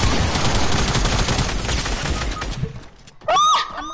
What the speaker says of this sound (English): You hear my shot?